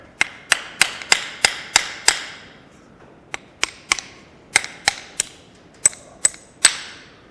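Hammer taps on a steering U-joint clamp of a Massey Ferguson 1725 tractor, delivering a quick run of about seven sharp metallic strikes, a short pause, then further spaced blows, close and ringing.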